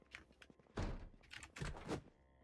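A zombie knocks on a door in the Project Zomboid video game: a few dull, heavy thumps, spaced irregularly and fairly quiet, with no voices.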